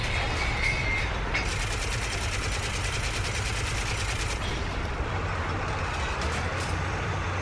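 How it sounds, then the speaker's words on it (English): A German train under fire in the IL-2 Sturmovik tank combat game, set in Stalingrad: a loud, steady rumble with rapid bursts of machine-gun fire layered over it, dense and continuous, with no voices. "I'm assuming that's a German train, and that's stopping it."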